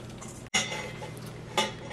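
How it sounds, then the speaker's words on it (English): A spoon mixes sausage with mozzarella cheese in a bowl, giving a couple of close clinks and scrapes against a quiet background. "Now we have to mix the cheese with the sausage."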